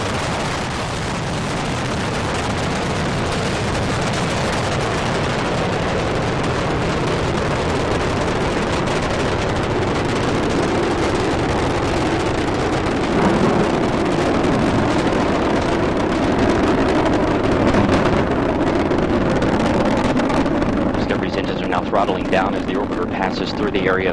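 Space Shuttle Discovery on its final launch, climbing toward orbit: a sustained, broad, heavy rumbling roar that stays loud and steady throughout, with a commentator's voice over it.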